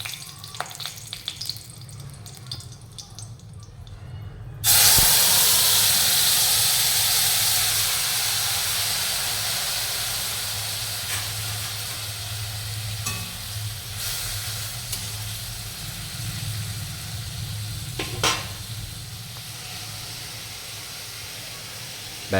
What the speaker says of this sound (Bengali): ফোড়নের জন্য গরম তেলে শুকনো লঙ্কা